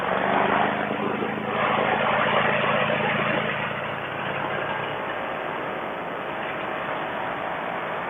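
A small powered aircraft engine drones loud and steady during takeoff on a spring flight, with a broad buzzing roar that eases slightly in its low end partway through, no talk over it.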